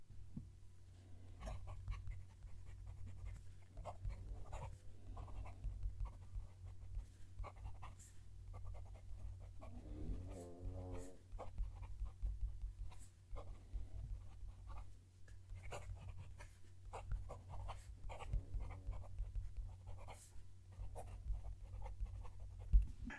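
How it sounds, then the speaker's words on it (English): A Pilot E95S fountain pen writing on paper, close up: faint continuous scratchy nib strokes in short irregular bursts against a low background hum. "Let's move the mic down to the page so we can hear the pen write."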